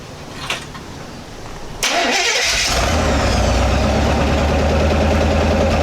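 A Chevy engine cranks on a freshly repaired starter, then catches and settles into a loud, steady idle close by.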